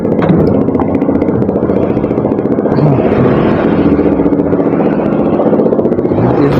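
A motorcycle idles and putters loudly up close with a steady engine drone and some clatter as it is brought in through a gate.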